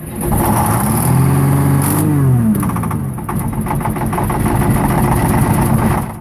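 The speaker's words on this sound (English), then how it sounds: "one Detroit diesel engine that defined the sound of American horsepower, it's the 8V71" A Detroit Diesel 8V71 V8 diesel engine revs hard, its roar rising and falling in pitch before settling into a loud, steady, gruff run close by, with no talk.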